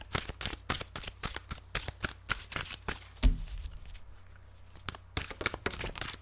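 Tarot cards are shuffled in rapid crisp riffles and flicks, a sharp thump marks a card being set down, then a brief pause before quick shuffling resumes, close and clear.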